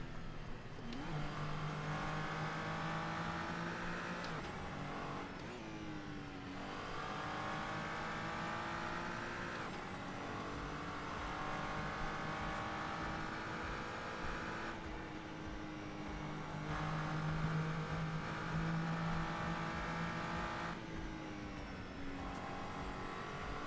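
A car engine in Assetto Corsa, racing on the German Autobahn, revs hard through repeated gear changes, each climb in pitch broken by a brief shift, steady and close with no talking.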